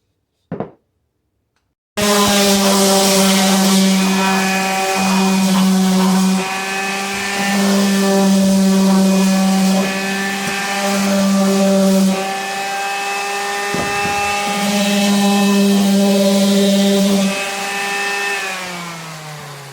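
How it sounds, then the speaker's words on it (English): A power sander with 120 grit paper works around the edges of a wooden piece, a loud, steady whining hum that starts abruptly after a brief tap and holds for the rest of the clip with slight swells. "I use this sander. I got 120 grit."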